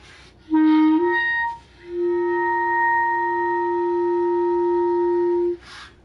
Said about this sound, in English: You'll get a multiphonic that sounds like this.